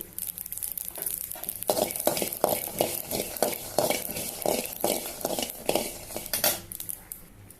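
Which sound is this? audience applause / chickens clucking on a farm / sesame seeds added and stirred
sesame seeds added and stirred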